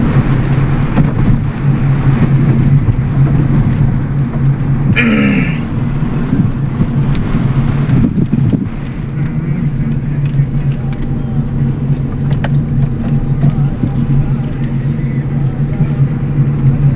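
A car's engine runs at a steady low idle after stalling, a continuous rumbling hum under broad outdoor noise, with a brief sharp disturbance partway through.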